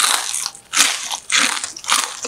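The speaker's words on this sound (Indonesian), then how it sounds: "Tahu pocong super kriuk guys" Someone bites into crunchy, spicy fried tofu (tahu pocong) four times, each bite a sharp, close, bright crunch separated by brief pauses.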